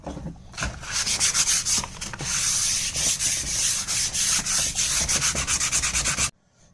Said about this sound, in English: Flipped it over, sanded it, so it's smooth